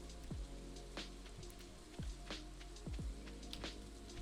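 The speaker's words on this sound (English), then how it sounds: "It's been raining this whole time and I just noticed." Steady rain falling in The Sims 2 game, a soft continuous patter with scattered drop-like swoops, moderately quiet and with no voices.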